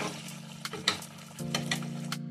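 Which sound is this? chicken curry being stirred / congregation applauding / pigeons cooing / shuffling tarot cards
chicken curry being stirred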